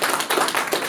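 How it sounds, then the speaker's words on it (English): Applause from a customer success meetup audience, a brief, close burst of several hands clapping in quick, uneven rhythm, fairly loud, with no voices. "Let's have a round of applause for our sponsors"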